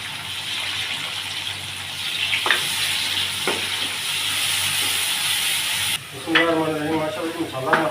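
An onion masala fries with tomato and ginger-garlic paste for camel qeema, hissing steadily with a few utensil knocks, then a sudden louder burst of spitting and bubbling as the wet ingredients hit the oil.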